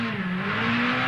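Pikes Peak race car with 900 horsepower accelerating hard, its engine note a loud, steady high-revving drone that climbs slightly as gears change, close and continuous.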